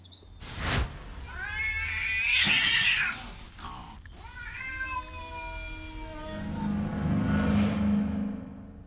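A cat defending its owners' home yowls in long, wavering caterwauls, loud and close, with a sharp hiss-like burst near the start and a low rumble at the end.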